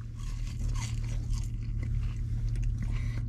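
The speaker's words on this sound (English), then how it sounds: "Get some fries into us. Russet fries." Close-up chewing and crunching of Wendy's russet fries, skin-on potato fries, heard as continuous moist bites and crunches over a low steady hum.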